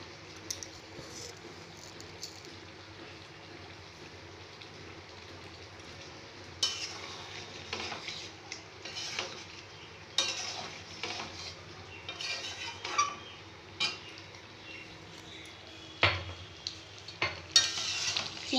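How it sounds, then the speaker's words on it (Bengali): Sugar being stirred into a simmering curry in a pan, with a soft continuous sizzle under scattered scraping and clinking of a spoon against the pan, growing busier in the second half. "চিনিটা দিয়ে নাড়াচাড়া করে"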